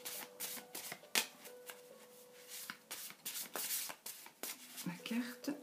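Tarot cards shuffled and cut by hand, a run of crisp riffling and slapping bursts with soft papery rubs between, close and fairly quiet, with a faint voice murmuring underneath.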